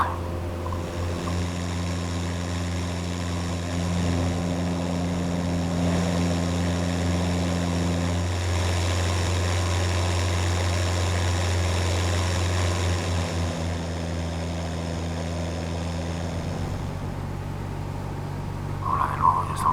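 A light propeller aircraft cruises over the Pacific between Lord Howe Island and Norfolk Island, its engine droning loud and steady from inside the cabin, with a shift in tone near the end.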